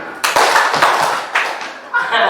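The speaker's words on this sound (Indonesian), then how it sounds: "3 kali tepuk tangan" A group of people at an educators' session claps in sharp, loud bursts, several distinct rounds of hand claps separated by short pauses, with voices and light laughter between them.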